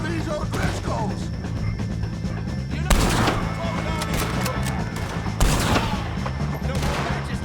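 Gunfire in a Red Dead Redemption 2 shootout against O'Driscoll gang members, sharp loud cracks at about three and five and a half seconds over scattered distant shots and ambient noise, with voices faintly beneath.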